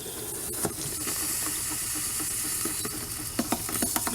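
Antifreeze rushing through RV plumbing in a steady hiss and gurgle, with a few sharp spurts and clunks near the end.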